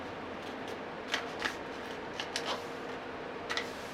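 Origami paper being creased and folded for a flexagon, a handful of soft crisp clicks and rustles scattered over a quiet background, close and faint.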